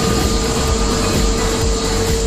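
A Vistara Airlines airliner speeds along the runway at Mumbai's Chhatrapati Shivaji Maharaj International Airport, giving a loud, close, unbroken engine roar with a steady tonal hum running through it.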